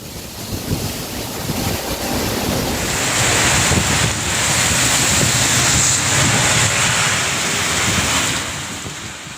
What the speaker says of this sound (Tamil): சூறைக்காற்றுடன் வெளுத்து வாங்கிய கனமழை காரணமாக சாலைகளில் மழைநீர் பெருக்கெடுத்து ஓடியது